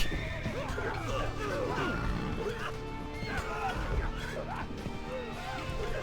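Horse whinnies and neighs rise repeatedly over a dense, noisy battle din of clashing and crowd sounds in the video game Civilization Revolution, with talking mixed in.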